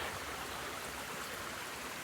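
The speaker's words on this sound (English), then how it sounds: "It's not raining too hard." Light rain falling outdoors, a steady, soft, even hiss with no individual drops standing out.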